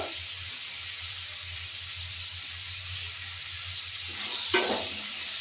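Turmeric powder fries in a pan with a steady steam-like hiss over a low hum, swelling near the end with a short burst of louder sizzling and clatter.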